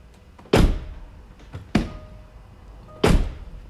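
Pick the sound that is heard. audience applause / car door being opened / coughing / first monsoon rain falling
car door being opened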